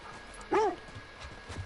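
A single short dog bark from a pet dog in The Last of Us Part II, heard once, fairly close, over quiet game ambience.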